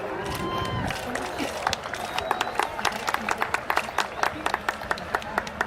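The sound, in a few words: racecourse crowd applauding steeplechase winners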